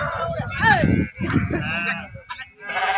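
Sheep bleat in several wavering calls at a riverbank, close and loud, mixed with someone speaking over them.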